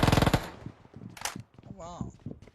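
Gunfire in the BGMI mobile battle royale game: a loud rapid burst of automatic fire up front, then scattered shots and game effects as someone talks over them.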